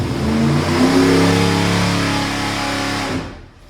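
A 355 small-block Chevy engine runs on a dyno at a steady, low, rumbling idle with a slight rise in revs early on, loud and close, then cuts off near the end.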